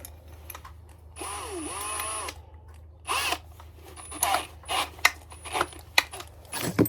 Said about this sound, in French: On va essayer de percer ça comme on peut